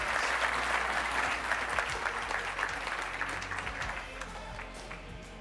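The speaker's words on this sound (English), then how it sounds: "please give Marnie a round of applause" Sustained audience applause at a tech conference, Brainstorm Tech 2017 in Aspen, a dense steady wash of many hands clapping that fades slightly toward the end.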